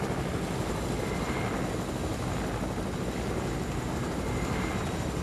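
Helicopter in the video game Fortnite, a loud, unbroken rotor and engine roar that stays steady and close for the whole stretch, with no speech over it.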